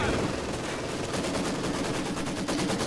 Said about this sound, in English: I still have my MG constantly hitting them